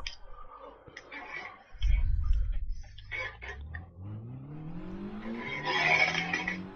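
Car engine revving and shifting through gears on a practice lap in Gran Turismo on PS4, rising whine with tire noise and clicks, fairly loud and continuous.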